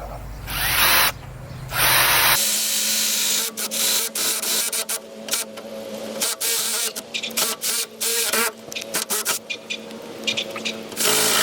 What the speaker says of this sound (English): So I'm taking a 7mm drill bit and a drill.